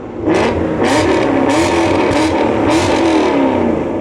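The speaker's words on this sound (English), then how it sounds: "The noise that this thing makes, because we've got Rich's fabrication, valved exhaust on, is completely ungodly." A daily-driver car fitted with a Rich's Fabrication valved exhaust revs hard in about five sharp, loud bursts over a constant engine roar, close to the microphone, with no talking.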